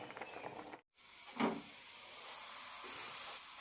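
Hot tempering of mustard seeds, curry leaves and shallots poured into a boiling raw mango curry, giving a sudden loud sizzle and hiss after a brief silence, then a steady fading crackle.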